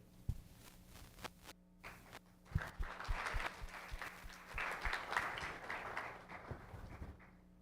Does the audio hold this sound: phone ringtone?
no